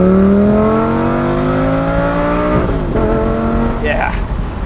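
A Lamborghini Gallardo Spyder with E-gear automated manual gearbox accelerates hard from inside, the engine note rising steadily then dropping through a quick upshift before climbing again, loud and close.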